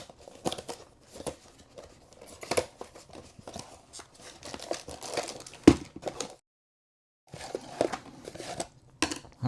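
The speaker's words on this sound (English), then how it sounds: "let's go ahead and unbox this thing" Packaging for an iOttie Easy One Touch 6 car phone mount is opened up close, with bursts of crinkling, tearing and rustling, a brief clatter, a short silent pause, then more handling.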